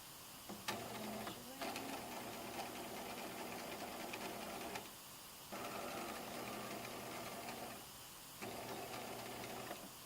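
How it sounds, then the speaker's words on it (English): Sewing machine running in sustained bursts as it top stitches a fly zipper facing, steady mechanical whir with brief pauses between runs, close and moderately loud. "Top stitch 1/8 of an inch away from the seam line."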